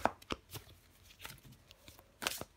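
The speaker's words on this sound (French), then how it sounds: "Je prends encore une carte pour vous." A tarot card drawn from the deck, a few soft quiet slides and snaps of card stock, faint and close in a calm room.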